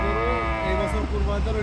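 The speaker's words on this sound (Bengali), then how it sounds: "এখন আবার বড় ফ্রিজিয়ান ষাঁড় বাচ্চা দেখতে পাচ্ছি" Holstein Friesian bull calf mooing on a farm, one long, loud, close call with a wavering pitch that carries through the whole moment.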